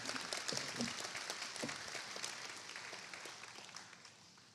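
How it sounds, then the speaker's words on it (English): An audience at a Founders' Day celebration applauds a university chorale, with brisk, crowded clapping that starts full and gradually thins and fades toward the end. "please give the UDC Chorale another round of applause"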